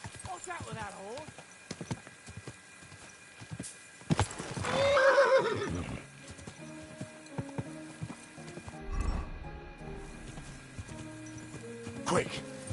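A horse in the video game Kingdom Come: Deliverance 2 gives a loud, drawn-out whinny in the middle of the scene, with hoof clip-clops and a voice around it.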